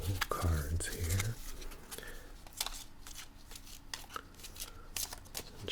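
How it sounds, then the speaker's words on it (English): A deck of playing cards is shuffled up close in a quiet room, with crisp riffles and flicking snaps in quick bursts, then lighter taps and slides, while someone speaks softly over it. "This time we will use a proper deck of playing cards."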